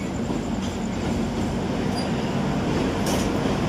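The Howrah Amritsar Mail passenger train rolls along steadily with a continuous rumble of wheels on rails and faint clatter. It is loud and close, as heard from inside a coach, and no one speaks.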